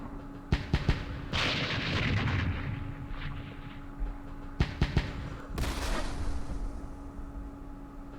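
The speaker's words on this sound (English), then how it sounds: "The artillery's coming." Artillery barrages in a turn-based Vietnam war strategy game set at Dien Bien Phu: sharp booming impacts in two clusters, each followed by rumbling blast tails over a steady background hum.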